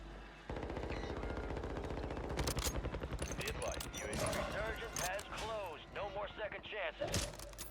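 Rapid gunfire from the Warzone video game, with sniper rifle shots among the bursts, dense and loud throughout as a player talks over the action.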